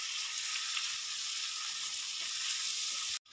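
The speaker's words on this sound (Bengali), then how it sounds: "এবারে এর মধ্যে দিয়ে দেবো কুচিয়ে রাখা পেঁয়াজগুলো হালকা ব্রাউন করে ভেজে নেব।" Chopped onions frying in hot oil with spices and bay leaf for a pangas fish curry with eggplant, giving a steady, loud sizzle that continues without a break before a brief cut at the end.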